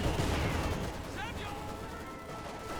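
Mortar and gunfire in a Company of Heroes 2 battle, a heavy boom up front followed by a dense rumble of distant shelling and small-arms fire, with a brief whistling sound midway.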